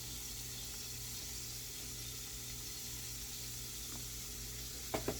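Pork backstrap fries in vegetable oil in a pan, giving a steady, close sizzle throughout with a couple of small ticks near the end and no talking.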